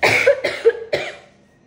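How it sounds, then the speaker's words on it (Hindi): A woman gives three short, dry coughs in quick succession, close to the microphone, then goes quiet. "मैं थोड़ी सी खांसी लग चुकी है मुझे।"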